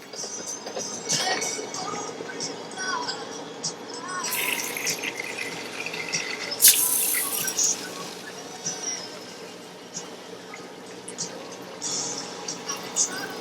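Cold water runs steadily from the cold side of a shower tap in a water system being winterized, a continuous close hiss with brief brighter splashy bursts.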